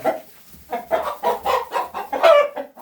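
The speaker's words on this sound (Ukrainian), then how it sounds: "Ну це, це молоденький півник." Young Light Brahma chickens cluck close by in a short burst of rapid, uneven calls, with a brief crow-like rising note from a young rooster near the end.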